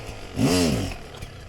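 Enduro motorcycle engine briefly revving up and fading away in a dry forest setting, a single rising and falling rasp heard close by, with no talk.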